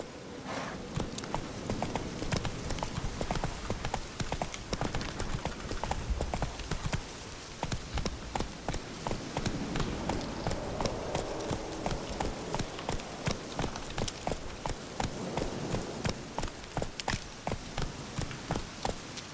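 Horse hooves gallop in The Witcher 3 video game, a loud, close, steady clip-clop that keeps up a quick, driving rhythm throughout with no break.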